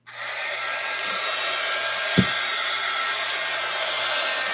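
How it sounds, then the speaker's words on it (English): Heat gun melting candle wax, a steady loud broadband blowing roar that holds constant throughout, with one brief low thump midway. "So this is going to heat up and sort of kind of melt the wax a little bit."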